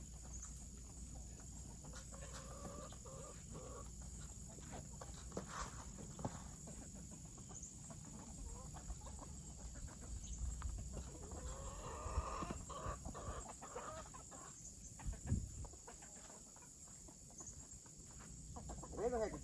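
Chickens cluck and call softly now and then outdoors near a coop door, over a steady hum of insects and farmyard ambience, with scattered rustling and a few louder bursts.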